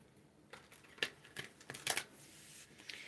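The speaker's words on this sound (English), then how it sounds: "And I'll shuffle it a couple more times." Oracle card deck being shuffled by hand, a few quiet riffling and sliding bursts of card stock spread over a short, otherwise silent stretch.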